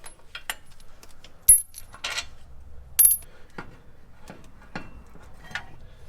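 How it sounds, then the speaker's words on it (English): Metal bolts being pulled from a truck brake caliper, sharp clinks and light metallic taps scattered over a few seconds, close and distinct against a quiet background. "Let's go ahead, pull these bolts out."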